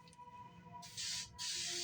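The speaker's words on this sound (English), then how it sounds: "All right, we're gonna spray that." Aerosol spray can spraying onto a custom action figure cardback, two hissing bursts of spray following a faint quiet stretch, close and fairly loud.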